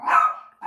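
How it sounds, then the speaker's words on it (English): A single dog barks loudly and close, one sharp bark followed by the start of a second, heard alone with no talk. "how much this dog drives me nuts."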